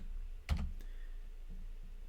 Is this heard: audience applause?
no